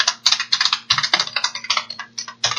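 Rapid keystrokes on a computer keyboard come in close, crisp bursts with short pauses, typing out a folder name.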